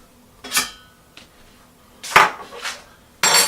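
Metal spoon and kitchen utensils clatter and clink in a few separate bursts while someone rummages through them, close and fairly loud, with quiet pauses between and no talking.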